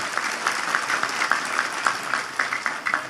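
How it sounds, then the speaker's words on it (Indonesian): Audience applause for Pak Prabowo at a religious talk in Indonesia, an irregular patter of individual claps building into a lively crowd, with sharper hand strikes standing out through the stretch. "Tepuk tangan untuk Pak Prabowo."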